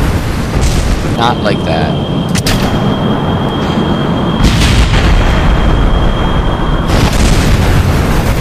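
Rocket blowing up on the runway in Kerbal Space Program, a loud sustained rumbling burst of explosions lasting several seconds, with a voice talking over it.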